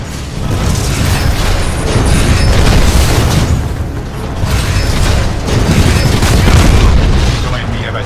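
Enemy Titan blowing apart in the shooter game Titanfall 2, a loud, sustained booming explosion with mechanical clatter rolling in two swells over several seconds, with a voice talking over it.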